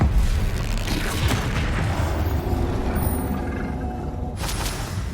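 Incendio fire spell cast in the video game Hogwarts Legacy, a loud booming whoosh of flame that rumbles on steadily and fades near the end.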